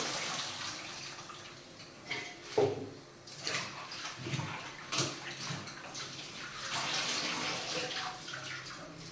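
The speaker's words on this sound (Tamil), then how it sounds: "இப்போ இதே போல் நல்லா வந்து அலசி எடுத்துக்கிறேன்" Spinach leaves being rinsed and swished by hand in a vessel of water, a steady wet sloshing with a few louder splashes, fairly close, with no talking.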